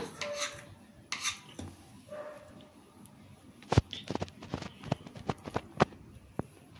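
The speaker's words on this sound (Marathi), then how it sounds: "अशा पद्धतीने ह्याला आपण आता बटर लावून घेऊया" A knife spreads butter on bread for a beetroot sandwich, making soft scraping rubs at first and then a run of sharper scrapes and taps, close and fairly quiet.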